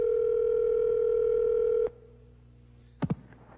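A steady telephone dial tone on a late-1980s radio station call-in line holds loud and unbroken for nearly two seconds, then cuts off, leaving a quiet line before two short clicks or beeps.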